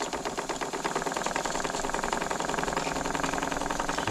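Steady, dense chuffing of an RC boat's steam engine running at higher throttle, close and continuous with a fast mechanical rhythm and no talk.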